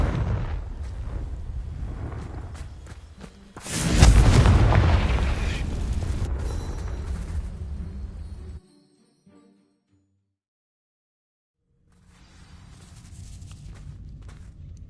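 A Confringo fire spell explodes in Hogwarts Legacy, setting dry vines alight with a sudden loud boom that fades into a crackling roar, followed by silence and then faint ambient game sound.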